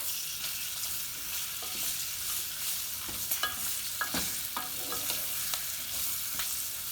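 Green chillies fry in oil over medium heat with a steady, crackling sizzle. A spoon stirs them, giving repeated scrapes and light clicks that cluster in the middle stretch.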